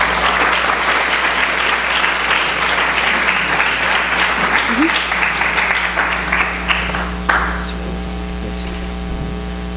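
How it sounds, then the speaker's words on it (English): Audience applause following a talk fills the room with dense, steady clapping that carries on for several seconds before tapering off near the end, leaving a low hum of room noise. "I'd like to give her another round of applause."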